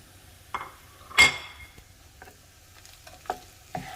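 Bacon stirred into a pan of rice for omurice gives soft sizzling with a few sharp clinks and scrapes of a utensil against the pan, spaced irregularly and fairly close.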